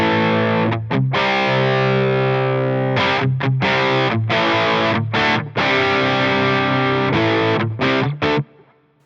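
Electric guitar through a Line 6 Helix Placater Dirty amp model, modeled on a Friedman BE100, plays heavily distorted rock chords, sustained and chopped in rhythmic bursts, loud and up close with no talking.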